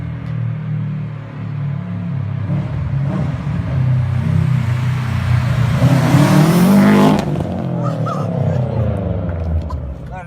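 A Subaru WRX hatchback with a loud Invidia N1 exhaust rumbles as it drives by, building to a roaring peak and then fading, with voices talking over it.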